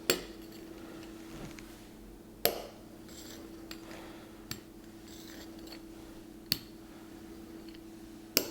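A knife cuts rolled dumpling dough into squares on a board, sharp isolated clicks and taps at uneven intervals against a quiet background hum.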